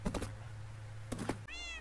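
A cat in Minecraft gives a short, clear meow near the end, after a few soft taps and thuds over a low background hum.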